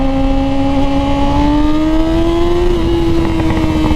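A Yamaha V Star 1300 Deluxe cruiser motorcycle on the road gives a loud, steady, low engine drone with a rising pitch, as if accelerating gently, and no voices.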